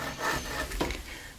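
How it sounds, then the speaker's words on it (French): A hand saw rasps through wood in a few slow, rough strokes, close by and fairly soft, with no talking. "Alors on scie tout en douceur"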